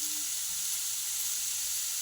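Onion and tomato frying in oil for an avarekai sambar masala, a constant bright hiss of sizzling close by with faint stirring beneath, and no talking.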